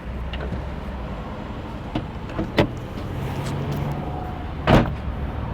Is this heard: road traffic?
yes